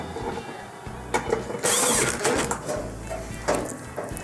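The top center screw of a Frigidaire oven's cover is driven in with a steady close mechanical whirring and ratcheting, rising briefly louder partway through, with no talk.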